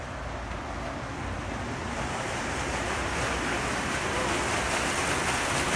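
Spring water pouring into the wet well of a water treatment plant, a dense, steady rushing roar that fills the space evenly and stays constant and loud with no pauses.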